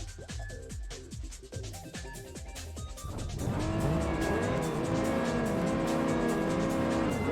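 Toyota Supra race car in the racing game Juiced revs hard through rising and falling gear changes, then settles into a loud sustained engine drone with wavering pitch, with tire noise and nearby cars.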